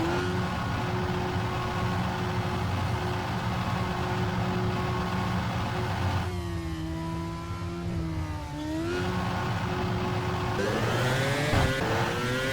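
A 2007 Formula One car in rFactor screams around the Bahrain circuit on a hot qualifying lap. Its engine holds a loud, steady, close whine with brief dips and rising pitch sweeps as it shifts and accelerates.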